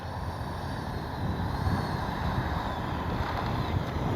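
An Arrows RC MiG-29 twin 64mm electric ducted fan jet model throttles up for takeoff, a rising whooshing roar mixed with wind buffeting on the microphone, steady and fairly loud.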